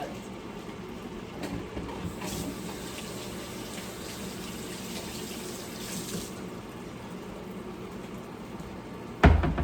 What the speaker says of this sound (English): So I'm gonna pour some of this in the pot to start.